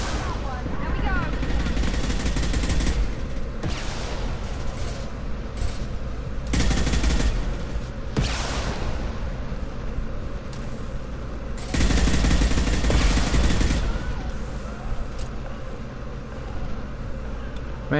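Continuous rattling gunfire from a video game battle, bursts layered over a dense roar, loud throughout with heavier volleys swelling at intervals.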